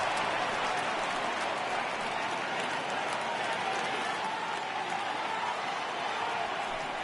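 A baseball stadium crowd cheers and applauds steadily after a fielder runs down a fly ball for the second out, a continuous broad roar throughout.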